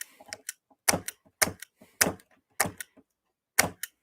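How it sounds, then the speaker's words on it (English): A Radio Shack nibbling tool trims a panel in a series of sharp, separate snapping crunches, about six loud bites spaced roughly half a second apart, close up with short quiet gaps between them. "With my Radio Shack nibbling tool."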